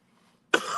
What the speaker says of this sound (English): I've been coughing like this for the past fucking week